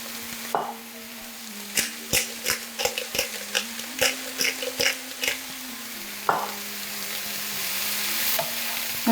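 Mushrooms, onion, peppers and tomato with mixed herbs, salt and pepper stirred in a frying pan, a steady low sizzle with a regular run of close spatula taps and scrapes, then quieter frying after a pause.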